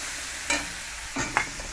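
Potatoes and onions frying together in a pan during Bengali home cooking, heard as a steady low sizzle with a few brief stirring scrapes and clatters, close and moderately quiet, with no talking.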